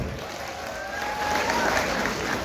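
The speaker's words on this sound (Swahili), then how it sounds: "Wapi makofi ya Bebe Top?" Audience applause at a Kenyan gathering with an MC, a steady mass of clapping that swells slightly toward the end, with faint whistling or voices mixed in.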